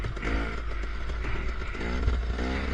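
A KTM 300 dirt bike fitted with a Billitrron carburetor revs on a ride, its engine note rising and falling smoothly with throttle, fairly loud and continuous with light clattering.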